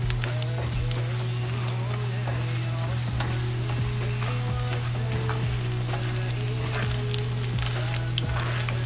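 Katori chips frying in hot oil for children, a steady sizzle with stirring clatter, accompanied by a constant low hum and bits of background voices and tonal sounds.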